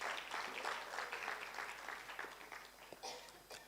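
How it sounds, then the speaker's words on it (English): Audience at a student-led communication presentation claps for a team leaving the stage, a moderate, slightly distant patter that tapers off, with a few stray claps near the end. "I think we can give them one round of applause as they exit the stage."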